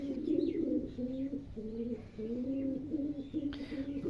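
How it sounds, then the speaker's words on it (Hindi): Pigeons coo in a steady run of low, rolling calls close by, phrases repeating with short gaps, with a few faint higher chirps and a brief burst near the end. "फ्रेंड्स ये कबूतर है जी प्रॉपर।"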